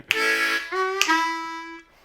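A short blues lick played on an A harmonica: two bright, reedy bent phrases of about a second each, the second sliding down and sustaining, played close and clear with no talking.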